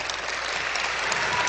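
Audience applause at a regional senior citizens' queen election pageant, a steady dense clapping from a crowd that fills the whole short stretch at even loudness.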